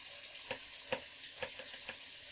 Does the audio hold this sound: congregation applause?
no